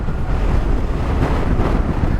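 Strong wind buffets the microphone in loud, continuous rumbling gusts, with no voices.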